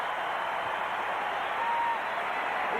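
Arena crowd at a 1992 basketball game between the Dream Team and Cuba, applauding and cheering in a steady, dense wash of noise for the whole stretch, with no clear voices standing out.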